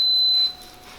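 A single steady electronic beep from an Instant Pot set to sauté, loud and close, lasting about half a second before cutting off into quiet room tone.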